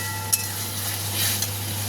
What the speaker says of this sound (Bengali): মশলার সাথে আলুটাকে একটু কষিয়ে নেব